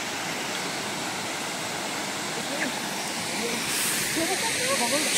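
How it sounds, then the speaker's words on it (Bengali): Water pouring down a roadside waterfall near Darjeeling, a steady broadband rushing hiss heard from nearby that swells slightly louder toward the end, with no voices. "কি ফলস নাম জানি না, তবে এরকমভাবে জল পড়ছে। এরকম রাস্তার ধারে অনেক রয়েছে।"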